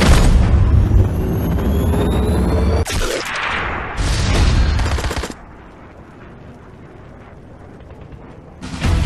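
Gunfire in the mobile shooter Sniper X, aimed at an enemy officer: dense, loud rapid shots fill the opening seconds, a couple of sharp blasts follow, then a quiet lull before another burst at the end.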